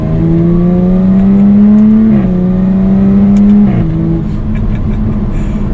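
A supercharged 2021 Jaguar F-Type R-Dynamic engine hums loudly, rising in pitch as it revs, with gear shifts dipping the tone, close by and without talk.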